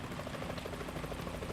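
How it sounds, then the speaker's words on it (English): In the video game Metal Gear Solid 2, a helicopter's rotor thumps rapidly and steadily, a dense, loud chopping drone that fills the short moment with no voices. "Is that a chopper I just heard?"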